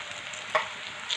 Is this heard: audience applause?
no